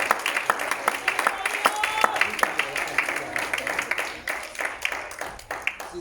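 A church congregation applauds during a Sunday service, many hands clapping in a steady, dense patter that carries on throughout, with a murmur of voices mixed underneath and the clapping thinning slightly toward the end.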